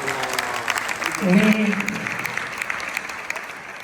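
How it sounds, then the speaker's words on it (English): An audience at a Latin dance event in Australia applauds, a moderate sustained patter of clapping under a speaking voice that carries over it. "please join me in giving a great big round of applause"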